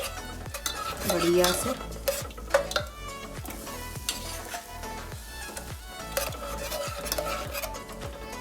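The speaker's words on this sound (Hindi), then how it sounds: "अब हम इसमें ये सारा तड़का मिला देंगे" A sizzling tempering of hot spices is stirred into cooked lentils for the Uttar Pradesh dish daal ka dulha, with steady frying crackle, repeated metal spoon scrapes and clinks against the pot, and a brief spoken word.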